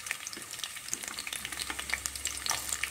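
Onions frying in hot oil for a country chicken curry, a dense crackling sizzle with bright pops and stirring close by, steady throughout and with no talking.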